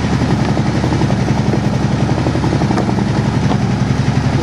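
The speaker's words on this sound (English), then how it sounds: "Just for giggles, we'll rev it up again with the just a lid back on." An engine with its snorkel intake lid refitted revs up in a garage, producing a steady, loud, rumbling drone that holds throughout with slight surges and no talking.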